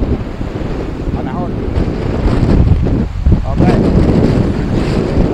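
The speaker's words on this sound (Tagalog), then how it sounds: "Medyo malakas din ng hangin" Strong wind at a clear-water beach, roaring steadily as buffeting noise against the microphone, with faint surf beneath it and a person speaking briefly over it.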